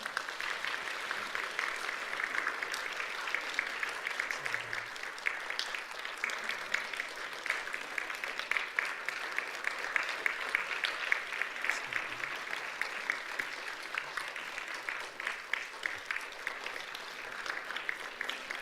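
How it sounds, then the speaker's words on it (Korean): A church congregation at a Korean Sunday worship service applauds, a moderate, steady patter of many hands clapping that carries on evenly throughout with faint voices murmuring underneath. "박수를 치시려면 좀 크게 치시고"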